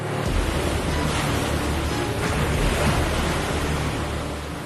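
Sea waves surge and crash loudly at an ancient temple on the coast in Jammu, a dense, roaring wash of surf mixed with wind that stays close and constant, with no voices.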